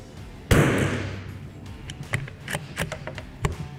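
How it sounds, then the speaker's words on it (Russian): A carbine rifle fitted with an optical scope fires one sharp, loud shot at a 50-metre range, followed by a decaying tail and a few fainter clicks and knocks. "Приступаем к стрельбе."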